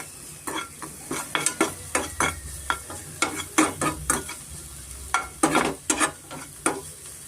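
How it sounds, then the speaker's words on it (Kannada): Potato and mushroom pieces frying for a homemade pizza topping are stirred briskly with a spatula, giving rhythmic scraping strokes over a faint sizzle in a pan. "ಸ್ವಲ್ಪ ನಾವು ಫ್ರೈ ಮಾಡ್ಕೊಳ್ಳೋಣ"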